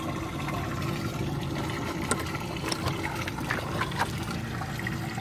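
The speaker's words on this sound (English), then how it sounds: "once that water comes up, it goes through the spigot, down through the trough." Water rises through mesh-bottomed oyster upweller buckets and spills through a spigot into a trough, making a steady close trickling and splashing flow with scattered small drips.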